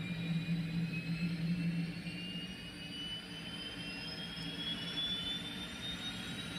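Boeing 727 jet engines in a flight simulator, a steady loud whine with a low rumble and rising high tones, continuous throughout with no voices.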